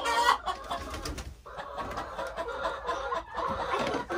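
Chickens cluck and squawk close by inside a backyard coop, a busy overlapping chatter of short calls with scuffling movement and no clear speech.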